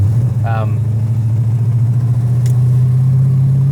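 A 1970s Dodge Charger engine runs at a steady, loud, deep idle, its low rumble continuing throughout with a brief voice-like burst early on.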